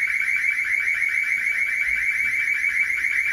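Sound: panic alarm sounding in a village hall

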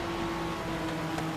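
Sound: car boost (NOS) acceleration in Forza Horizon 3 video game

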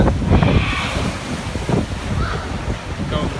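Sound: wind

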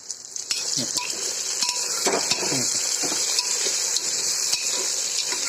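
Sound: sautéing ridge gourd with masala in a pan

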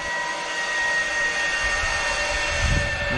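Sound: zipline riders coming down the cable at Toro Verde

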